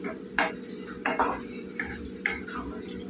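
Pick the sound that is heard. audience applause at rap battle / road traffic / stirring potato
stirring potato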